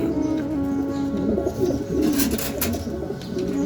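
Pigeons, including checker and grizzle birds sitting on eggs, coo softly and repeatedly in a low, rolling rhythm, close by, with faint chirps mixed in and no talking.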